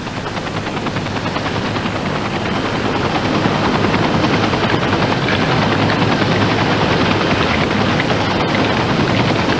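A helicopter roars continuously in a dense, loud wash of rotor and turbine noise with a fast underlying chop, steady throughout and close, with no talking.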